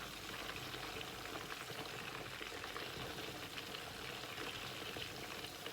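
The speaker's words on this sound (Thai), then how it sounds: "ทอดไปใจเย็นๆค่ะ เปิดไฟปานกลางนะคะ" Chicken satay frying in oil in a small pot over medium heat, a steady, even sizzle and bubbling throughout, close and fairly quiet with no talking.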